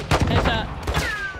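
Gunfire in the video game Call of Duty: Modern Warfare II, a loud close burst of several rapid shots with ringing tails, mixed with game sound.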